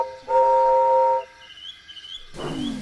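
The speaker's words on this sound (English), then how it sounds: "Presently he heard a whistle." A steam locomotive sounds a single loud, sustained whistle blast of about a second, followed by quieter rumbling and a burst of hissing steam near the end.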